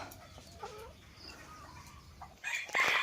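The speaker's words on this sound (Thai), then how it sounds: "น้องไก่ไข่มาอยู่ตรงนี้" Laying hens cluck softly in the background, then a louder burst of clucking and squawking breaks out near the end.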